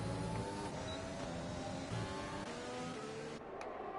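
F1 car engine in the F1 2020 racing game during a sprint championship race, a continuous high harmonic whine with layered tones, steady and close, broken by a brief dip near the end.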